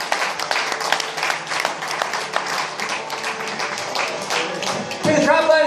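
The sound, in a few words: audience applause for a comedian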